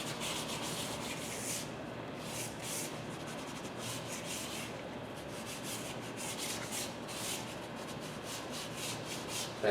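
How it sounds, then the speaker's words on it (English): Compressed charcoal dragged across drawing paper in a gesture study, a continuous dry rubbing and scraping with rhythmic strokes, close and fairly quiet, no speech. "This pass I'll do with the compressed charcoal"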